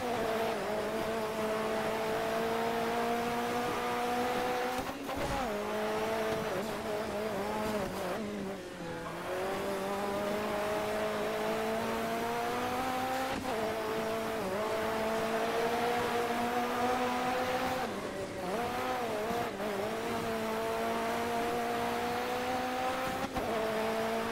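A race car in DiRT 3 drives fast on snow, its engine droning at high revs with gear shifts and dips in pitch, plus occasional skids and tire noise, loud and steady throughout.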